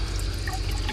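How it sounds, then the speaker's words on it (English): Cold water running from a tap inside a converted skoolie bus, a steady close hiss of flowing water with faint drips, alone and without talk. "I'm going to turn on the cold water"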